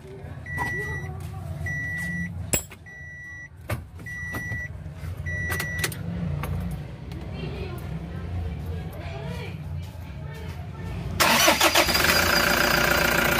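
A Toyota HiAce that resisted starting despite a good battery: clicks and short cranking bursts under a voice, then the engine catches near the end and runs loud and close.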